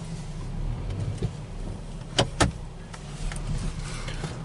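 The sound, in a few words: 2015 Jeep Patriot engine running after cam sensor replacement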